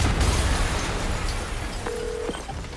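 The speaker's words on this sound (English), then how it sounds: "an explosion just..." An explosion in the video game Marvel's Spider-Man Remastered: a loud, broad blast that rolls and decays over a couple of seconds, followed by a brief thin tonal beep.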